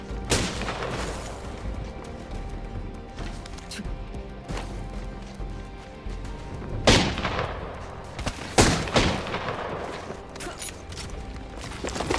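Video game gunfire crackles in scattered bursts with several heavier booms, the loudest two near the end, set against a constant game background and some low voice chatter.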